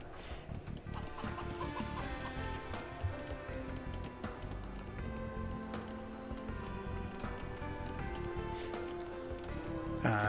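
Age of Empires-style chicken clucking and squawks in a real-time strategy game arena map, layered over busy background music and effects, steady and fairly loud throughout.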